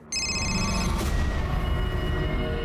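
A telephone rings loudly and steadily with a bright, continuous bell tone. It starts abruptly and sounds alone, with no one speaking.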